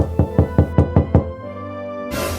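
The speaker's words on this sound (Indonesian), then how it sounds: "tiba-tiba terdengar suara ketukan dari pintu" Six sharp knocks on a door in a quick, even sequence, loud and close, followed by a low sustained tone and then a burst of noise.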